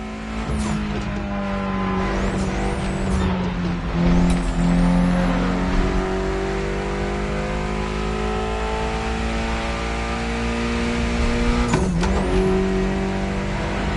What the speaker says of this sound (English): Mitsubishi gave us a nice inline four-cylinder with already 280 horsepower that are gonna turn up a bit